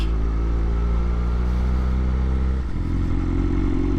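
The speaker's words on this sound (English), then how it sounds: "I don't know if you guys can hear those pops, but man, this bike is the package." A new motorcycle engine runs steadily and loud up close, a dense idle rumble with a brief dip and shift partway through; faint popping from the exhaust may sit within the drone.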